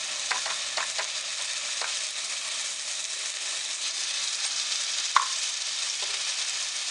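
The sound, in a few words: ginger garlic green chilli paste frying in hot oil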